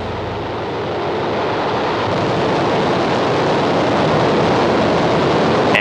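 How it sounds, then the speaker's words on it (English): A Soyuz FG rocket lifts off from Baikonur with Soyuz TMA-13M, a loud, broad, steady roar that swells gradually and fills the clip without any voices. "Soyuz TMA-13M launched atop a Soyuz FG rocket from Site 15 of the Baikonur Cosmodrome"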